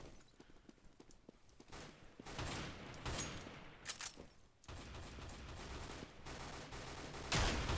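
Shotgun fire in Counter-Strike: Global Offensive, an irregular series of sharp blasts and clattering game effects at moderate loudness, with no speech over it.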